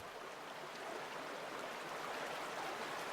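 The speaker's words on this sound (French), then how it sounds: "le son de l'eau qui coule" Steady, even rush of water flowing past a waterside spot, a broad continuous wash that holds at the same level throughout with no voices.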